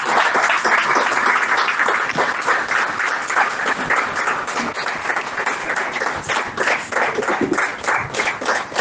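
A church congregation at an Urdu-language sermon gives loud, sustained applause, dense clapping filling the whole stretch with no talk over it.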